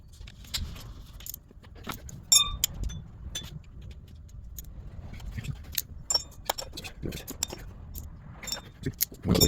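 Metal clinking and ratcheting of short and deep 10mm sockets tightening bolts in a crisscross pattern on a 2004 Honda CR-V during a water pump job, with scattered clicks over low rumble and soft talk.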